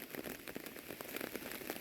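Rain falls outdoors, a continuous hiss of drops with scattered brighter pattering impacts, fairly quiet and even throughout, with no one speaking.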